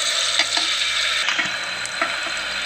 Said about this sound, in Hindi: ये प्याज अब इसको मैं ब्राउन होने तक का इंतज़ार करूँ